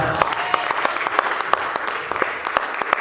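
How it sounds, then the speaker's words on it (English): Church congregation clapping for a woman during a worship service, loud uneven applause with sharp individual claps standing out over the crowd. "Can you clap for our sister?"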